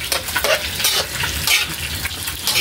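Tilapia sizzles steadily as it fries in a pan, a continuous close crackle with a few brief stirring and scraping touches and no talking.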